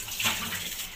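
Tap water running over vegetables being washed, a soft continuous hiss of flowing water with a brief louder splash early on, fairly quiet and without voices.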